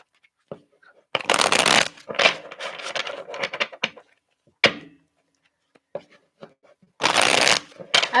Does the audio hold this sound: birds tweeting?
no